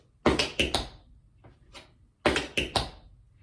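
Crisp tap-shoe strikes in a four-count riff, two quick clusters of three or four sharp taps each, separated by softer scuffs, close and clear with no voices.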